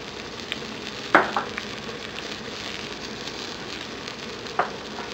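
Chicken feet adobo with oyster sauce, salt and sugar sizzles steadily in a pan over low heat, a continuous soft crackle broken by two sharp clinks or pops.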